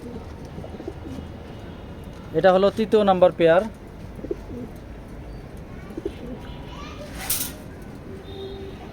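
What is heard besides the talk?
racing pigeons cooing in a loft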